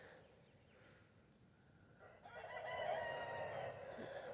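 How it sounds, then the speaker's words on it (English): A young rooster crows once in the distance, faint but clear over quiet outdoor background noise. "My neighbor's chickens have just developed enough into roosters"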